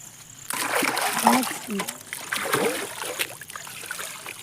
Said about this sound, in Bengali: হাত ধুয়ে নাও